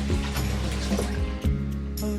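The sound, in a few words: water rinsing a paintbrush in circular motion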